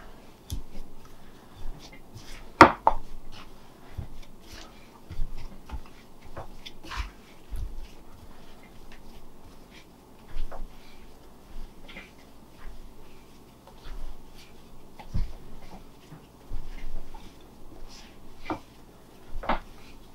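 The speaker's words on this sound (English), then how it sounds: "I think I'm about to the point where the spoon is of no use, and I'm going to start kneading" Amish sweet bread dough is kneaded by hand, with soft, irregular squishes and pats repeating close by over a quiet background, broken by an occasional sharper knock.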